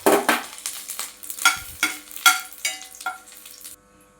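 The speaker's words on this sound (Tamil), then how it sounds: "அதில் கொஞ்சம் நெய் விட்டுக்கலாம் இந்த உலர் திராட்சை அதில் வறுத்துக்கலாங்க" Raisins frying in ghee in a pan for millet payasam, a series of short scraping stirs over a light sizzle, close and fairly loud, fading out near the end with no voices.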